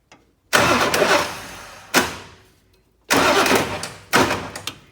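Four separate bursts of a 1996 Ford F350 diesel truck starter, long untouched, cutting in and out from a poor electrical connection; each loud, close grinding burst stops abruptly, with silence between, and nobody speaks.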